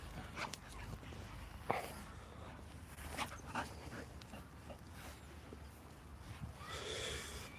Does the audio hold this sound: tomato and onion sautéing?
no